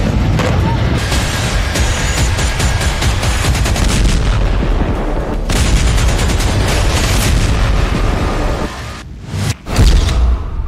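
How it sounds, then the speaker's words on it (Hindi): Israeli air force strikes on Hamas positions bring loud, dense, continuous gunfire and explosions, with a sharp booming burst near the end. "इसके लिए पहले फेज में वायुसेना हमास के ठिकानों को उड़ा रही है।"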